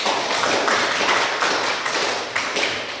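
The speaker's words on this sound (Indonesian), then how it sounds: "tepuk tangan" Classroom applause from a group of students, a continuous patter of many hands clapping at moderate volume that holds steady throughout without speech.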